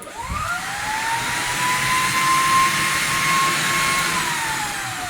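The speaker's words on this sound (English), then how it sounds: "This button here is to vacuum the water." A carpet cleaner's loud, steady vacuum motor drones close by with a rising whine that settles into a continuous high tone, sucking up water with no pauses.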